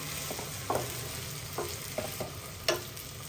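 Gujarati handvo, crispy after ten minutes, frying in a pan and being stirred and flipped, with a soft continuous sizzle and a few scraping knocks of the spatula, including one sharper scrape near the end; no voices.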